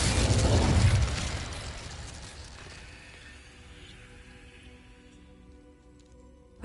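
Incendio fire spell blast in Hogwarts Legacy: a loud, broad burst of roaring flame for about a second, then a long fading crackling tail that thins out over several seconds, with no talk.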